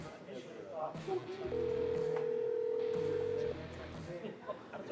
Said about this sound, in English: We got his number dialed up.